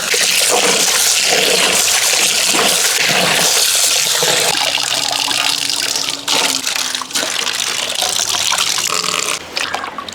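Raw chicken pieces are rinsed under a strong stream of running water, a loud continuous gush and splash with small bumps and clatters of the pieces in the vessel, and no talking.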